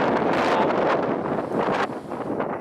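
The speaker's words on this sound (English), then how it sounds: "Yeah, this wind is insane." A strong 60-knot coastal gale at Jeffreys Bay roars as loud, continuous broadband wind buffeting the microphone, with gusty surges and a brief easing near the end and no voices.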